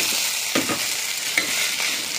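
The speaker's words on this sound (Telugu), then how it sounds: "ఇది వేగుతూ ఉంటే కొంచెం కొంచెం ఆయిల్ బయటికి వస్తూ ఉంటుంది." Chikkudukaya (broad bean) masala frying in oil in a pan, a steady loud hiss and sizzle with a couple of brief scraping stirs, no voices.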